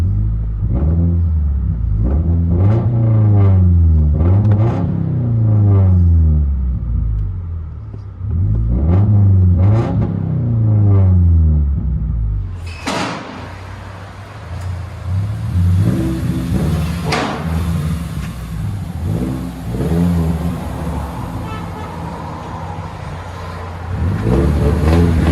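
2017 Subaru Crosstrek with a 2.0 turbo engine and Dynomax Race Bullet exhaust, heard from inside the cabin as repeated loud revs rising and falling in pitch, then a sharp shift to a rougher, sustained rumbling drone.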